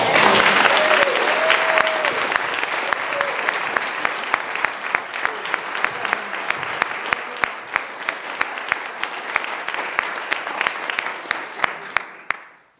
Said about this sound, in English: I think we need to give her an applause.